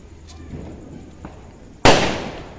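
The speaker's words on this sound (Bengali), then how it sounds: "চুটুস বাজি, এই দেখো চুটুস বাজি।" A small chutus baji firecracker bursts during a festival with a single sharp, loud pop near the end, trailing off quickly, after a quiet stretch with faint background sounds.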